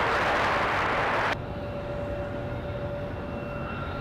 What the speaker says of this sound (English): So one of the CRJs here going to go for it.